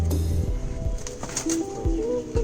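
Low, soft coos from a female pigeon that is laying eggs repeat a few times close by, over a faint background hum.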